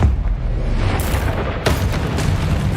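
A blasting spell in the Hogwarts Legacy video game detonates with a deep booming explosion, followed a moment later by a second sharp blast and a rumbling tail.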